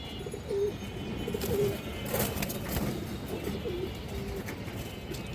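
Kaldom and Giya breed pigeons coo repeatedly, with soft rhythmic throaty calls close by over a busy background of rustling and faint ambient noise.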